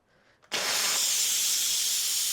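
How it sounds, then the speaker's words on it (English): Steam hisses out of an Instant Pot's pressure release valve: after a faint moment, a sudden loud rush bursts out and holds steady and strong, alone without talk. "And a whole bunch of steam is going to come out."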